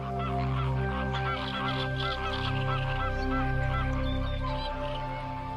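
A flock of flamingos calling during courtship in the Ria Formosa lagoon, Algarve, Portugal: a dense, continuous chorus of goose-like honking that stays loud and unbroken throughout.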